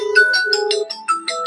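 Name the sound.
phone ringtone ringing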